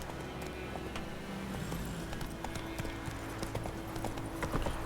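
Hooves of the horse Roach clip-clop in a steady trotting rhythm in The Witcher 3, moderately loud over a faint game ambience with no one talking.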